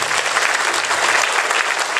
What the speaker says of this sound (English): thank you so much for the standing ovation